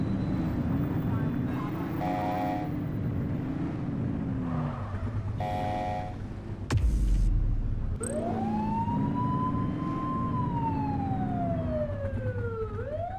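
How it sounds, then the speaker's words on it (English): Police car siren in the Grand Theft Auto 2 video game, with game tones and engine noise, then a loud wailing siren that sweeps up and down in long cycles, close and continuous. "You're only meant to use the siren in emergencies."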